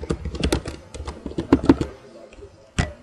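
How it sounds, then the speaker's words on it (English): Typing on a computer keyboard at a PC, a quick run of light clicking keystrokes close up, pausing and ending with a single tap, with someone speaking over it. "Now here in the search box, type in Facebook Messenger."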